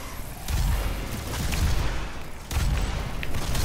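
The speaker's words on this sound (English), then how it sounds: "Happy explosions to you!" Heavy explosions rumble through DOOM combat, with repeated thick low booms that surge at the start and again near the end and make a dense continuous blast texture.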